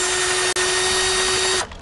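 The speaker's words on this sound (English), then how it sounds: "And then we'll finish them off with the drill." A high, steady power drill whine removing bolts on a Lincoln MKS runs continuously with one brief cutoff, then stops abruptly near the end, loud and close.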